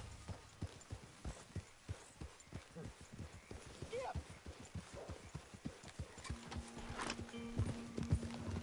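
Horse hooves clip-clop in a steady, quick rhythm in a video game, fairly close and continuous, with voices talking over the hoofbeats and a sustained tone entering near the end.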